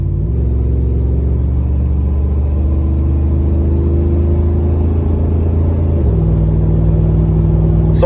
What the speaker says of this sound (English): hopefully you could hear the exhaust